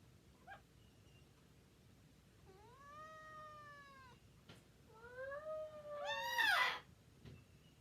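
Bengal cat meowing while being hugged, two drawn-out, wavering complaints that grow louder, the second rising into a strained yowl, close and clear over quiet background.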